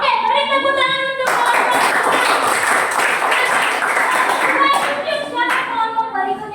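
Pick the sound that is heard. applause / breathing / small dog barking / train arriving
applause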